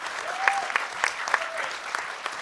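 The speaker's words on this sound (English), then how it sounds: "let's give a huge round of applause to all these panelists for staying under 2 minutes largely" Brief applause from a conference audience at a hacker convention panel, scattered claps with a few whistles over a short burst, moderately loud and close.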